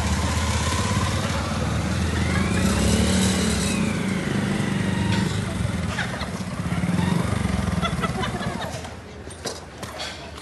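Motorcycle engine droning steadily throughout a ride, loud and close with wind rush, the pitch rising and easing slightly as it moves along, with no talk over it.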